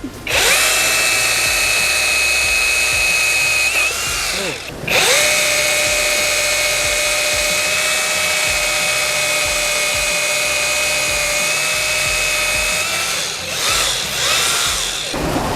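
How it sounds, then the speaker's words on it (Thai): A Magnum 5198A 21V cordless rotary hammer drill whines steadily while boring into wood, pausing briefly once before revving on, close and loud throughout. "ในการเจาะไม้เจาะเหล็กเจาะปูนและกระแทกปูนมันจะใช้งานได้ดีขนาดไ หนครับ"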